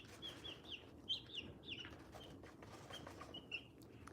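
Hens and baby chicks softly clucking and peeping close by in a quiet coop, scattered high chirps over a low steady background, with no talking.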